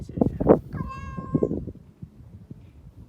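A friendly house cat gives a clear, close meow that rises and then trails off, surrounded by soft rustling and quiet nearby movement, alone without talk.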